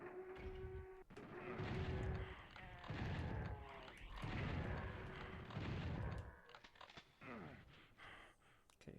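A chaingunner enemy fires in Final Doom on the PlayStation, heard as repeated heavy, booming gunfire bursts in a regular rhythm, moderately loud, with game music underneath.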